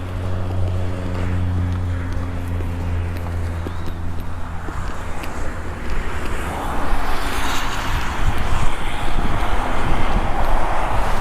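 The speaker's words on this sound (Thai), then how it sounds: "วันนี้ก็ลมแรงมาก" Strong wind blows in gusts at an open-air airplane-themed café in Sattahip, Chonburi, on an overcast day. Steady, loud roaring noise swells in the second half over a low droning hum.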